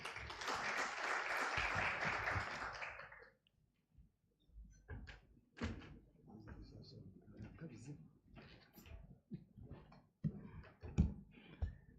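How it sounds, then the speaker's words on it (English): Audience applause at a fintech conference, a dense burst of clapping filling the hall for about three seconds before fading into scattered speech and room noise. "Let's welcome Noah with a big round of applause"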